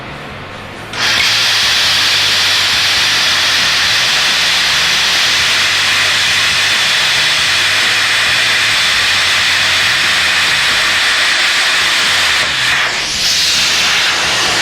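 A steel water heater tank being cut with a power tool, a loud continuous high-pitched grinding hiss that starts abruptly after a second and holds steady nearly throughout, close and alone with no talking.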